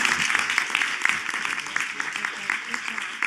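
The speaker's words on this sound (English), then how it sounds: "let's all give all of these individuals a round of applause" Audience applause at an annual business meeting and awards ceremony, a steady wash of many hands clapping with scattered sharper claps, fairly close and continuous throughout.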